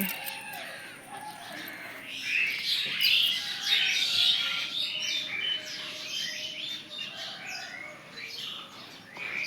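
Birds chirp and squabble in a village tree in the morning, with busy overlapping tweets rising and falling at moderate distance and no talk.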